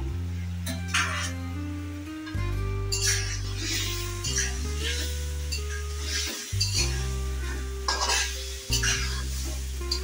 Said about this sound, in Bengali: আস্তে আস্তে হালকা ভাবে নেড়ে আস্তে আস্তে কষিয়ে নেব।